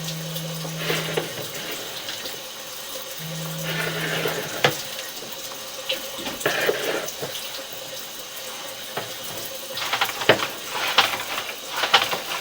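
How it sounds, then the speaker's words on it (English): Water rinses dirt off a camera lens inside a pipe, heard as a faint, splashy trickle and gurgle in uneven bursts with brief low hums between, and no talking. "So we'll try to rinse those things off."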